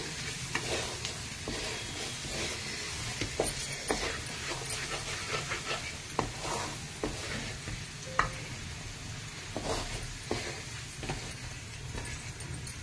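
Mushroom curry in a pan is stirred after coriander powder and turmeric are added, with a steady frying sizzle under repeated scraping strokes and no talk.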